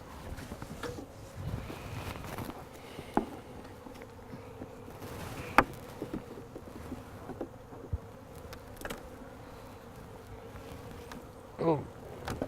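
Honey bees buzz at an open beehive during an inspection, a steady low drone with bees flying close past now and then, over occasional soft knocks and handling noises.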